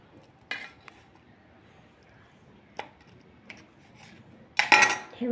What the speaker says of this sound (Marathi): आता आपण सगळ्या वड्या कट करून घेऊ